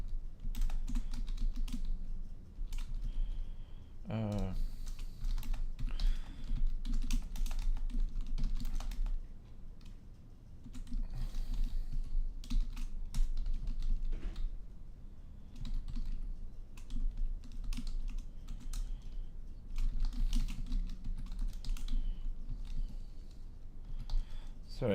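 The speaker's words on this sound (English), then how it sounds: "Okay, I'm just gonna start typing here." Steady typing on a computer keyboard runs throughout, close and continuous with brief pauses, and a voice speaks now and then over the clatter.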